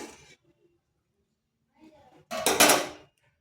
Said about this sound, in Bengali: এরপর এটাকে আমি ঢাকা দিয়ে রেখে দিচ্ছি